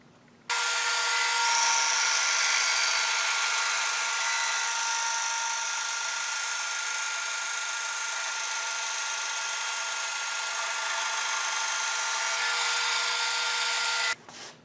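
A saw slices steadily through a laminated wood board, a loud, continuous high-pitched whine that starts abruptly, holds for about fourteen seconds without a break, and cuts off sharply, with no voices.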